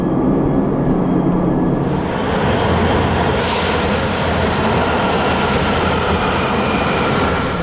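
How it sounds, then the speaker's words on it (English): A Washington D.C. Metro Red Line subway train rides along with a loud, steady roar of wheels and rumble filling the car, with faint squeal overtones and no talking. "Okay, we're on the subway, heading to Metro Center."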